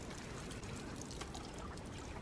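Steady trickling of water pouring continuously, a soft broadband wash with no voices over it.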